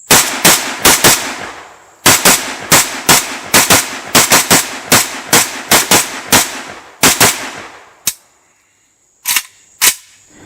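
Romanian Cugir SAR-2 AK74-pattern rifle in 5.45mm firing a rapid string of loud, sharp semi-auto shots in quick succession, followed by a pause and two more spaced shots, with no talking.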